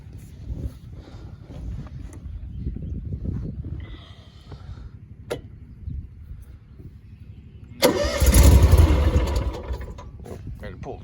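A 2022 Bad Boy Rogue mower engine fires up in a barn with a sudden loud, rumbling burst. It follows several seconds of quieter mechanical handling noise, then settles into a steadier running drone.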